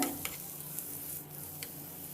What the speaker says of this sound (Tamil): வெங்காயம் கொஞ்சம் வதங்கி வந்ததுக்கப்புறம் குடமிளகா சேர்த்துக்கலாங்க